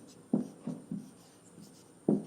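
Chalk or marker writing on a board during an English grammar lesson, heard as four short scratchy strokes spaced across the moment, close and fairly quiet, with no speech.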